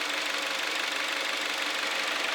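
A Hyundai Santa Fe engine idles smoothly and quietly with a steady, even hum and a soft broadband hiss, unbroken and without speech.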